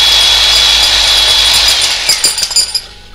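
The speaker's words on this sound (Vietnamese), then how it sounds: "Đây là mẫu chuyên dụng vừa đục vừa khoan ha." A Japanese combination chisel and hammer drill runs loud and close with a high whining motor, then winds down into a few rattling knocks as it stops.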